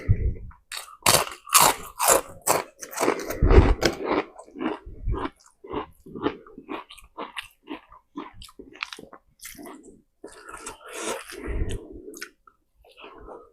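Someone chews a first mouthful of nasi padang close to the microphone, moist biting and crunching in irregular bursts, with a few soft breaths and murmurs between bites.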